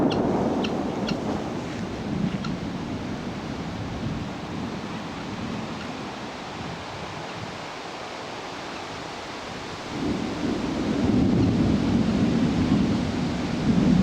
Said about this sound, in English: there comes the wind.